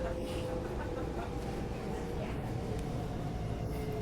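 A Singapore metro train hums and rumbles steadily from inside the carriage, a constant low, fairly quiet rolling drone with a faint tonal whine throughout.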